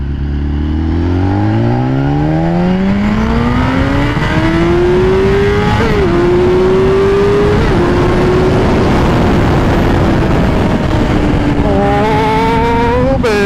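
A BMW S1000RR sport motorcycle accelerates hard through several gears, its engine note climbing steeply then dropping briefly at each upshift, loud and close with rushing wind and no speech.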